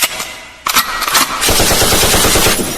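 Rapid bursts of machine gun fire, loud and close, with a sharp single shot early on followed by sustained rattling automatic gunfire over a dense backdrop.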